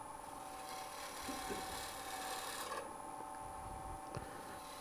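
Wood turning on a lathe spinning at about 1100 RPM gives a steady rasping, rubbing scrape with a faint high whine, continuous throughout and close.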